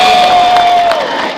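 A crowd at an outdoor political rally in Jember, Indonesia, cheers and shouts in a short loud burst, with a sustained whistle-like tone running through it before the noise fades.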